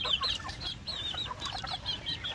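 Rhode Island Red and Black Australorp cross chickens cluck in a farm setting, a fairly faint, continuous scatter of short overlapping calls with no voices.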